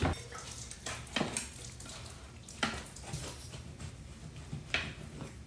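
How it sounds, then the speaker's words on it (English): A knife cuts through a freshly baked chicken stromboli made with frozen Rhodes bread, giving a few scraping, crunching strokes against a board or pan, close but faint, with no talk. "let's cut this stromboli"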